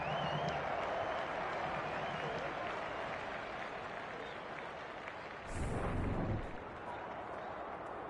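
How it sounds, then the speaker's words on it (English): Stadium crowd noise in the AFL 23 video game at a SANFL finals match, a dense continuous roar of cheering and applause with a brief swell midway, filling the whole clip. "The crowd already making plenty of noise as the captains come together."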